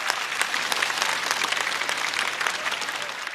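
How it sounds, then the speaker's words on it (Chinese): A stand-up comedy audience applauds a comedian with steady, close, crackling clapping that holds an even level from start to finish. "再次掌声送给菜菜。"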